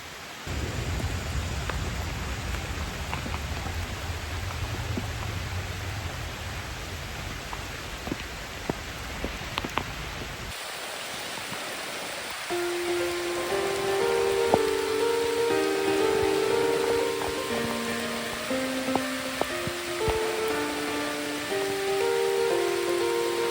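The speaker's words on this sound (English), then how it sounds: "Woo! It is coming down. I'll let you guys hear it." Heavy tropical rain pours down steadily in Chiang Mai, a dense, continuous hiss with scattered drip and splash detail, and a faint tonal sound drifts through in the later part.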